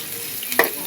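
Onions, dried red chillies, curry leaves and cumin seeds hit hot tempering oil, giving a brief close sizzle with a sharp crackling burst.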